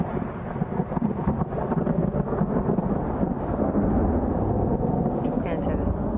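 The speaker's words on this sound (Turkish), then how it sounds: "İşte İstanbul'umuzda nasıl bir şimşekli gece." Thunder rolls through a nighttime lightning storm over Istanbul, a loud, continuous low rumble with no clear break for the full length.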